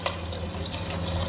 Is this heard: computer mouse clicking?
no